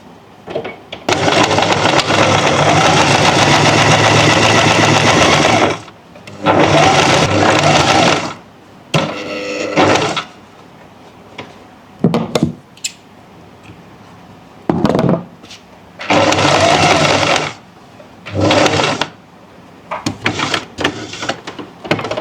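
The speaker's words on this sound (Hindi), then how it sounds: "अब इसको बुकरम की साइड से पूरी सिलाई लगाएंगे।" An electric sewing machine stitches buckram along a garment neckline in loud bursts of whirring, several runs of a few seconds each separated by pauses and short starts.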